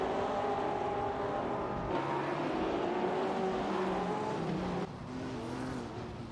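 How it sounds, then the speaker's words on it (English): Classic 1950s race cars in a racing video game pull in and out of the pits. Their engines make a steady, moderately loud drone with shifting pitches as cars move past. "We just saw a number of cars coming in and out of the pits, with Crumpy exiting in position 37"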